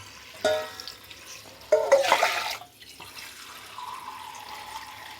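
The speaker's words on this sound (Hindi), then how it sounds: "इसमें और डालते हैं पानी हम" Water pours into a cooking pot for chicken corn soup in two short bursts, the second longer and splashier, then fades to a quiet hiss.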